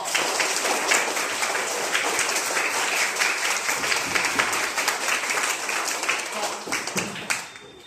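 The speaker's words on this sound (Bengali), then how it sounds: "এই খুশিতে জোরে তালি বাজাও।" Children clap loudly and happily after a classroom game, a brisk patter of many small hands that keeps going for several seconds before thinning out near the end. Voices murmur beneath the clapping.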